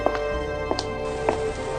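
Raindrops start to fall, a soft patter of scattered drops over a low steady background, brief and close.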